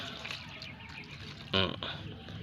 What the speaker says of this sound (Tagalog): Unya butangan na siya tubig